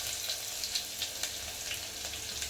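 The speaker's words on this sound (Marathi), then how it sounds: "तर मोहरी उडाली लसूण टाकायचं. थोडा गॅस बारीक करायचा." Crushed garlic goes into hot oil with popped mustard seeds for a Marathi spicy dal tempering, giving a steady close sizzle with light crackling pops throughout.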